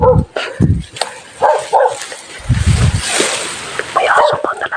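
A dog being brought down from the mountains to the roadside gives several sharp barks and yips, interleaved with nearby voices talking outdoors.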